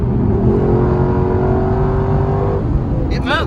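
Lexus LC 500 accelerating hard, its engine roaring loud and close with a rising, sustained tone for about two and a half seconds before cutting off as a voice begins.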